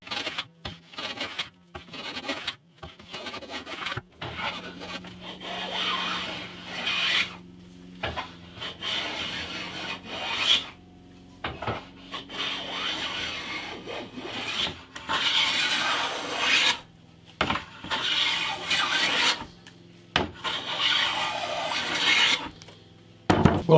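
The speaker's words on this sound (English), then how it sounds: "Need to do a bit of planing, and I thought, why not stick a piece of this sycamore in the middle?" Sycamore wood pieces for a guitar neck being hand planed in a workshop, a series of close, rasping strokes of uneven length separated by short pauses.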